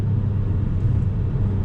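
A VW Golf GTI Autobahn with 220 horsepower pulls through the revs in third gear, heard as a steady, close, low engine and road rumble that holds evenly throughout.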